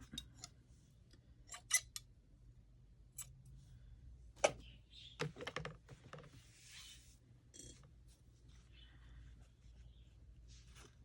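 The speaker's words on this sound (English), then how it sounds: "And then we'll trim back that twine a little bit." Scissors snip twine on a craft piece, with a few sharp, quiet cuts and clicks spaced out over a faint steady hum.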